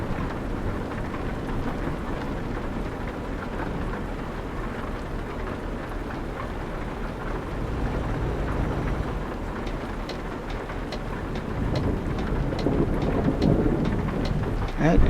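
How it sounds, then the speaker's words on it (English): Thunderstorm with rain in Euro Truck Simulator 2 while driving through Sweden, steady hiss of rainfall with crackling thunder rising toward the end, no speech. "Whoa, more lightning"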